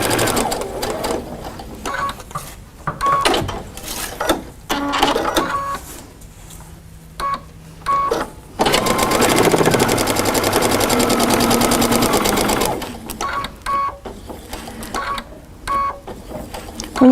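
A sewing machine stitching triangle paper-pieced quilt sections, whirring in bursts of varying length with a longer steady run in the middle, close and clear between short pauses.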